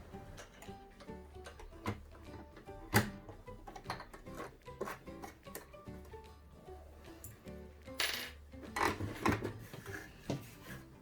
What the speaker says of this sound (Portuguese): a primeira coisa que eu vou fazer é trocar o meu calcador